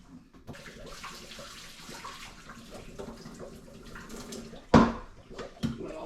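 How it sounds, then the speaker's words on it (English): Hot water from a pot of boiled potatoes is poured into a sink, a rushing, splashing stream close by that ends in a loud splash, followed by another brief splash. "So I'm going to dump the hot water right out of these."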